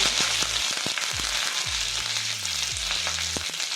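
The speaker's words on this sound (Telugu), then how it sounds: "ఆవాలు బాగా చిటపిటలు ఆడిపోయాక కరివేపాకు వేసుకోవాలి" Mustard seeds and curry leaves splutter in hot oil for a rasam tempering, giving continuous close crackling with scattered pops over a steady sizzle, alongside faint tonal background music.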